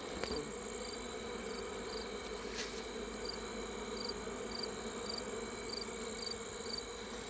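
Steady, dense buzzing of many honey bees gathered at a hive entrance fills the whole stretch, a continuous close hum with no talking.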